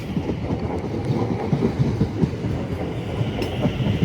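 A South Western Railway class 701 electric train pulls into Clapham Junction, its steady rumble and wheel clatter close and continuous with rhythmic clicks over the rails.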